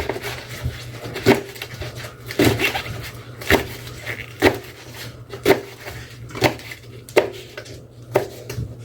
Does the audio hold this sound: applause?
no